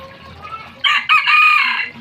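Rooster crowing loudly and close in two bursts, the second long and drawn out, with softer hen clucking and faint background chatter before it, in a Filipino backyard during New Year preparations.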